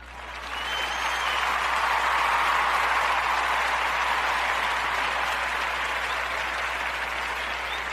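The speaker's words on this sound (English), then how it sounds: "So let's give an applause to the Chief." Steady crowd applause for a guest introduced on a live show, a dense continuous patter of many hands that rises quickly and holds at full strength for several seconds, with no talking.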